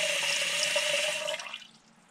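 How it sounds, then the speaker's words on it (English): Water sprays from a bidet nozzle during its self-cleaning cycle, a steady hiss with a faint tonal whine that runs for over a second and then fades out and stops. "we know we've got water flow, and actually I'll let that run for a minute"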